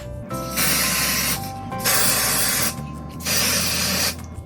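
Three long, loud bursts of aerosol spray hiss, each lasting about a second, separated by short pauses.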